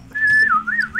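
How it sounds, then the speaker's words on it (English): A person whistles a clear, loud, close melody, a held note that slides into a wavering tune, with no talking over it. "It'd be better if I whistled"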